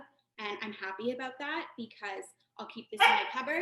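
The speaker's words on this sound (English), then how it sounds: "That's my dog." A pet dog barks a few short yips near the end, partly under someone talking in a kitchen.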